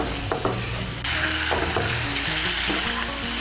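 Soybean chunks and potato being stirred and fried with spices in a pan, a loud continuous sizzle that surges after a second, with scraping stir strokes and occasional utensil clinks, no talking.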